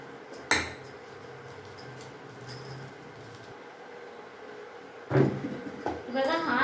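Coconut biscuit batter is beaten in a bowl, making a few sharp clinks and scrapes spaced out over a quiet background.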